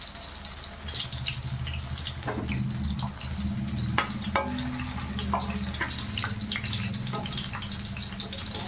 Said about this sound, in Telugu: తడి ఉంటుంది కాబట్టి నూనెలో వేయగానే చిట్పట్ మనిపోతుంది.